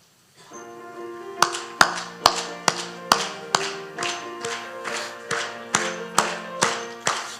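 An instrumental hymn starts during an early-morning church service, with sharp, evenly spaced claps or taps landing on the beat over sustained organ-like tones. The claps are loud and close.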